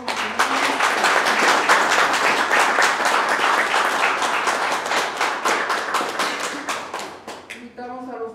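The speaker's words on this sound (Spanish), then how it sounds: "le damos un fuerte aplauso al nuevo matrimonio" Wedding guests break into sustained, dense applause for the newlyweds at a ceremony in San Francisco del Ejido, Coahuila. The clapping is loud and steady throughout, then thins toward the end as a faint tonal sound enters.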